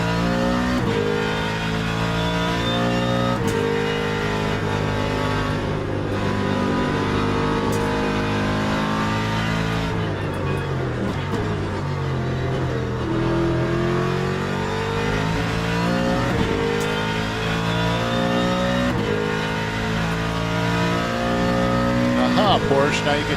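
A GT3 race car engine in the Le Mans Ultimate racing game revs hard and climbs through the gears, with repeated upshifts and a loud, steady engine tone throughout while someone talks over it.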